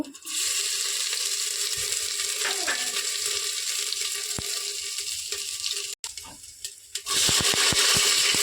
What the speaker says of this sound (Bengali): আমি প্রেসার কুকারটি গরম করে পরিমাণ মতো তেল দিয়ে দেব। এবার ফোড়নটা দিয়ে দেব।